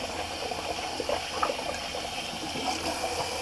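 Water running and splashing as a Semogue boar shaving brush is rinsed, a steady close trickle with gurgling bursts and no talking.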